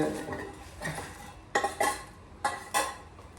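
A plate is handled while appam is served, producing a series of close metal-and-crockery clinks and scrapes in irregular bursts, some sharp and distinct, in a kitchen.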